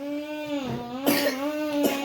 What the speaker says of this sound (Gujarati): બાપા રે ઉધરસ આવી